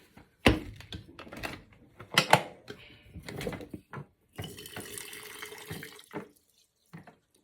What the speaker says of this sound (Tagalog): lalagyan natin ng tubig mainit